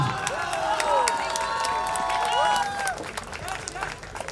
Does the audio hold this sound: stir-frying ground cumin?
no